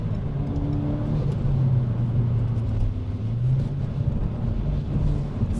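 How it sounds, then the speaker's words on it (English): Renault Megane R.S. 280 hot hatch exhaust under acceleration, a steady loud low rumble with rising engine note, continuous and close with no talking. "Beautiful exhaust noise through the back."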